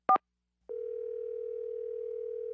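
A steady telephone dial tone hums alone for about two seconds after a brief clipped click or tone burst at the start, placing a call to a guest in Fairbanks, Alaska.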